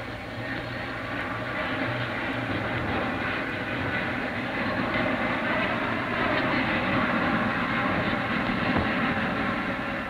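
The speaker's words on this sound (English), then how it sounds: "when he steps into his jet plane, he has more power at his fingertips than ever before handled by one man in the air" A 1950s twin jet fighter roars steadily up close, a broad, rumbling engine drone that holds strong throughout with no talk over it.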